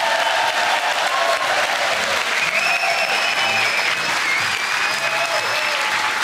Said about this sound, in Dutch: En dan vraag ik nu een groot applaus